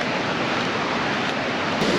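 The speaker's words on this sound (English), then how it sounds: "Even in rainy season, it's a really powerful waterfall, look." A powerful waterfall in East Sumba, Indonesia, heard as a loud, continuous, broadband rushing roar that stays steady throughout.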